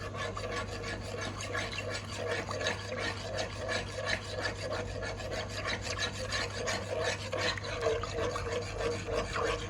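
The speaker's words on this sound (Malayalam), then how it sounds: "3 സ്പൂൺ പഞ്ചസാര നല്ലൊന്ന് ഇളക്കി കൊടുക്കുക." A spoon stirs three spoonfuls of sugar into a kiwi jelly mixture in a bowl, giving a steady, rhythmic gritty scraping and rubbing that repeats for several seconds over a low background hum.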